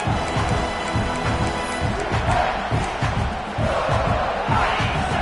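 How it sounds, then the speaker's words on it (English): Home crowd at a college football game roars continuously, a dense, loud wall of cheering and yelling that swells and stays steady throughout, with no clear speech on top. "how nice is it to have the home crowd going absolutely bananas?"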